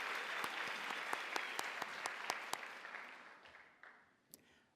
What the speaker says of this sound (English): How about one more round of applause for all our 2024 Honor Rookie Teachers of the Year?